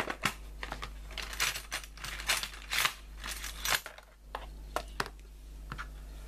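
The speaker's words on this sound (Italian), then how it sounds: "ora prendo le forbici." Scissors snip through craft material while a fairy doll's hands and feet are made, with irregular, fairly quiet cuts and small clicks spread across the clip.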